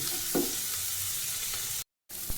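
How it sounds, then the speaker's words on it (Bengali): Chopped onions frying on a home stove and being stirred around the pan, giving a steady low sizzle with a couple of brief scraping stir sounds, then a short cut to silence before the sizzle returns. "এইবার আমি কেটে রাখা পেঁয়াজগুলো দিয়ে দিচ্ছি।"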